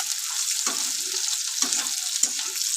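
Bitter gourd frying dry in a hot pan with no water, a steady bright sizzle with a few soft stirring scrapes, close and alone without any talking.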